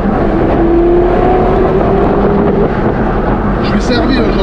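Porsche Carrera GT V10 engine with a manual gearbox, heard from the passenger seat, droning loud and steady throughout with a rising whine, while a voice talks over it.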